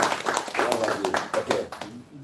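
A church congregation claps rhythmically in worship, a quick run of sharp hand claps mixed with voices singing and calling out over them.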